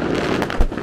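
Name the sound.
New Year fireworks exploding in Munich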